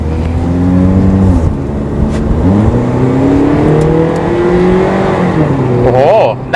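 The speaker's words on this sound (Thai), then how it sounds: "เดี๋ยวขอลองเครื่องนิดนึงนะฮะ" A 2008 Toyota Yaris engine revs loud and close, its tone climbing as the car accelerates, easing off and then building again, with a voice speaking briefly near the end.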